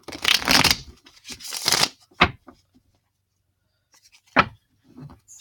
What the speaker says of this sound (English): we're going to shuffle up the Twin Flame Oracle cards.